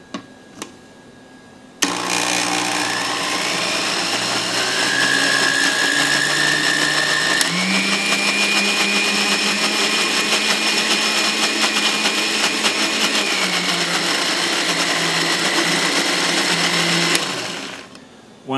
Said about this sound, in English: Start with just a little bit first so it gets your blender nice and rolling.